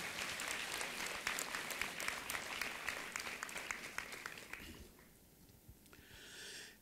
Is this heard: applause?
yes